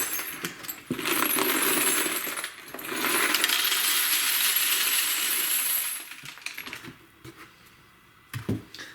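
Spent range brass casings are poured into shell sorter sifting pans, making a dense metallic clattering and jingling in two long bursts, followed by a few scattered tinks and rattles as the pile settles.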